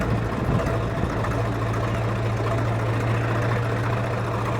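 Close by, a Ford 855 tractor engine idles with a steady, low rumbling throb that holds an even pitch throughout, loud and unbroken, with no voices.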